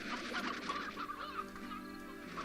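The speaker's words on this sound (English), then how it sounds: "But I definitely heard some chickens spawning." Chickens clucking in the game Slime Rancher, a quick run of soft squawks and clucks close by, with no talking.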